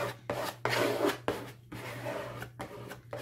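A credit card is rubbed firmly over collage paper to press it onto the substrate, making several close, dry, scraping strokes separated by brief pauses.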